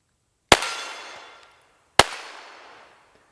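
Two sharp, loud shots from a Volquartsen Scorpion X complete pistol, about a second and a half apart, each with a long fading echo and no talking.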